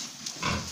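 Short grunts from young pigs being fattened at about four months old on premix and soybean meal, a few close, fairly loud bursts with no talking.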